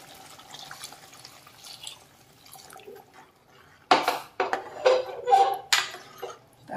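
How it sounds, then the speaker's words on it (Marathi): Heated water is poured into a pan of spicy prawn curry, giving several close splashing, gurgling bursts in the second half after a quieter stretch of faint kitchen noise. "आता आपल्याला आवश्यकतेनुसार आपल्याला याच्यामध्ये पाणी घालायचं आहे। तर मी याच्यामध्ये पाणी घालते,"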